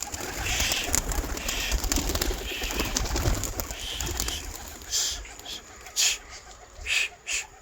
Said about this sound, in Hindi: सुबह सुबह ऐसे गिरे हैं कबूतर इधर उधर।